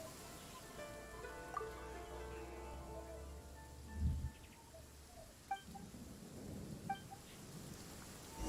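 Rain falls in the Genshin Impact game world as a soft, steady patter with faint distant rumbles and a few brief bright chimes, quiet and continuous with no talk.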